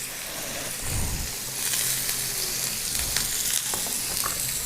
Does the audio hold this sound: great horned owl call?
no